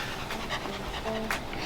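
A mini American Shepherd puppy pants rapidly and close by, with quick rhythmic breaths under a voice talking.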